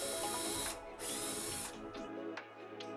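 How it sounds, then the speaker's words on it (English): A power drill with a 5mm bit bores through the particleboard frames of an IKEA PAX wardrobe during assembly, giving a close, steady whine in two bursts followed by quieter handling noise. "You're going to use a 5mm drill bit to drill through the frames at the 5th hole from the bottom and the 5th hole from the top."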